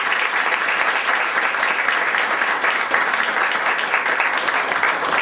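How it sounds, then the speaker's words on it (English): An audience at a scholarship reception applauds in a steady, dense burst of clapping from many hands that carries on at full strength for several seconds. "let's give everybody a round of applause"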